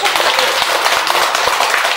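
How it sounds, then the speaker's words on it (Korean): Applause from a gathering at a temple's first-full-moon Buddhist service, a dense continuous patter of many hands clapping at steady moderate loudness throughout. "박수 한번 치고 하나"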